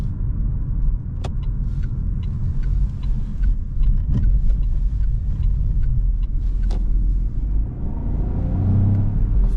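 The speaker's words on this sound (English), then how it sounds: "when you push the throttle, you can also notice then, of course, the petrol unit kicking in, and also it's got quite nice pronounced sound" Opel Frontera Hybrid 145 petrol engine kicking in under throttle during a night drive, heard from inside the cabin as a steady, loud low rumble that swells slightly toward the end.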